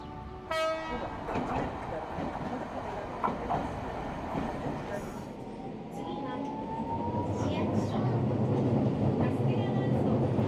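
A tram rumbling along rails in Nagasaki, Japan, with clattering and a rising mechanical whine, a horn-like tone near the start and faint voices around.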